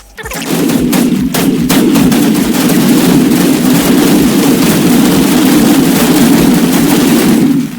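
A massive chain of TNT blasts tears through a village in a block-building video game. It sounds as a loud, unbroken roar of rapid crackling explosions that rises suddenly, holds for several seconds and then fades.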